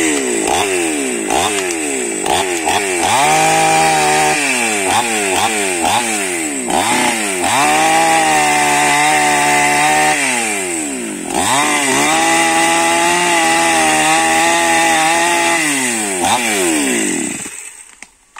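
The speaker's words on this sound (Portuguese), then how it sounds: "Eu trouxe o motosserra, pessoal." A chainsaw runs loudly and close, its engine revving up and down repeatedly as it bites into wood out in the woods, then cuts off at the end.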